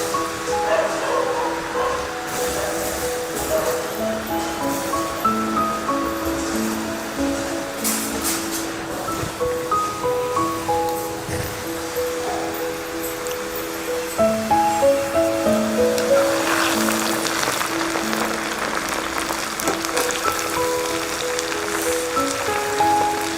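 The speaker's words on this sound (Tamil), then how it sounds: "நல்லா எண்ணெயில் நல்லா பொரிஞ்சு மொறுமொறுன்னு வரணும்" Potato and tomato snack frying in hot oil, a continuous crackle and sizzle heard up close, with faint tonal background music running underneath.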